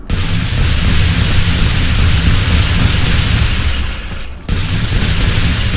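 Object being incinerated in the Viscera Cleanup Detail game, a loud, continuous roaring burn that dips briefly near the end, then surges back at full force, close and alone.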